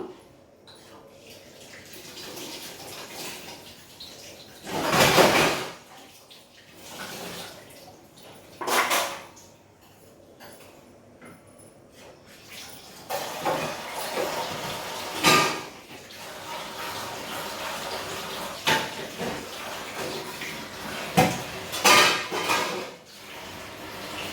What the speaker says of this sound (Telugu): కూర ఉడికేలోపు ఫాస్ట్గా నేనైతే గిన్నెలు అయితే కడిగేసుకుంటాను